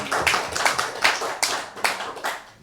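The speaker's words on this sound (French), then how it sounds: "Merci à tous et applaudissez-vous." Seminar attendees applaud together, a fairly close patter of many hands with uneven peaks that thins out toward the end.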